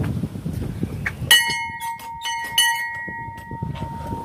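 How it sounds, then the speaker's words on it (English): A dinner bell at a scout camp gives a single clear metallic strike with a long, ringing sustain that slowly fades, heard fairly close above quiet outdoor ambience and faint rustling. "we even have a dinner bell"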